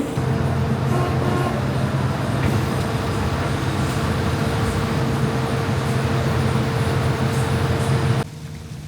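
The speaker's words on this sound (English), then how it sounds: "I'll go and start the motors up" Boat motors on a fishing vessel in the Timor Box run with a steady, loud droning hum that holds level, then drops abruptly to a quieter rumble near the end.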